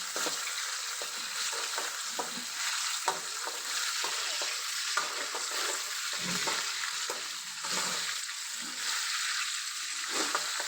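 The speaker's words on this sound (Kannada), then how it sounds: "ನೀವು ಎಣ್ಣಿನ ಕಾಯಿಗೆ ಟೊಮೆಟೊ ಹಾಕ್ತೀನಿ ಫ್ರೈ ಮಾಡ್ಕೋತೀವಿ" Tomato frying in hot oil with mutton masala for a homemade chilapi fish curry: a constant close crackling sizzle with occasional soft stirring taps, no talk.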